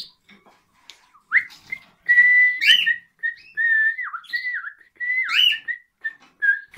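Someone whistles a short song to a male cockatiel, a string of bright, sliding whistled notes with small gaps between phrases, close and clear against a quiet room.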